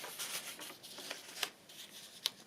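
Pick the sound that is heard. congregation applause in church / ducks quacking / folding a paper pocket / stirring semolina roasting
folding a paper pocket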